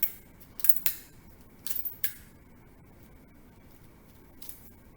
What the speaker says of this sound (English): We're going to slap some tape on it.